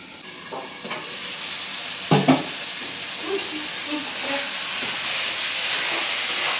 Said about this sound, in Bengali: চচ্চড়িটা মশলার সাথে কষাই নিব